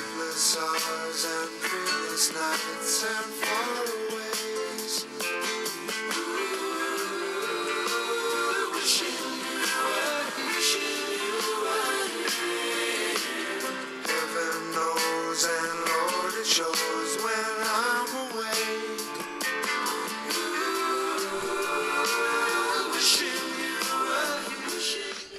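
A song from a 1974 album, with the band's main singers and another group singing harmonies: full, steady pop-rock arrangement with layered vocals running throughout at an even level.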